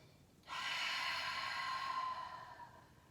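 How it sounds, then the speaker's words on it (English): A single long breath during a heart-opening yoga practice, a sharp intake that swells into a steady, close exhale lasting a couple of seconds before fading, with no talking. "Take a few breaths."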